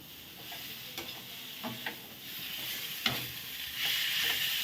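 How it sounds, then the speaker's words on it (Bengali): Rice with fried cauliflower, potato and peas sizzling in a wok as a spatula stirs and scrapes through it in several separate strokes, close up, steady hiss underneath, no one speaking. "দিয়ে এখন মা এই যে নাড়ছে।"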